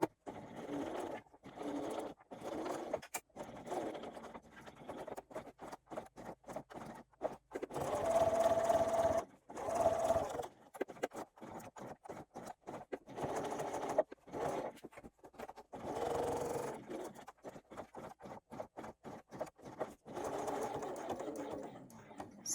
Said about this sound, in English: Sewing up to that mark, back stitching away from the mark